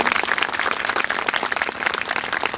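A crowd claps vigorously and continuously, a dense patter of many hands that stays steady throughout.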